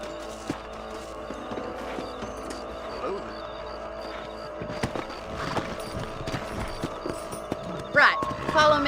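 Horse hooves clip-clop in the Red Dead Redemption video game, a steady rhythm of close hoofbeats mixed with game sounds and someone speaking over them, with a brief louder burst near the end.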